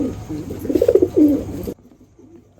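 Pigeons coo close by in a short burst of throaty, rolling calls that stop abruptly, leaving near silence.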